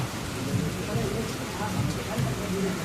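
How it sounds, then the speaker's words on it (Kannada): Rain begins falling during an outdoor meal in Mangaluru, a steady hiss and patter with faint voices murmuring underneath. "ಮಳೆ ಬೇರೆ ಸ್ಟಾರ್ಟ್ ಆಯ್ತು ಗುರು"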